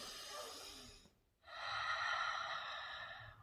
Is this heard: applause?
no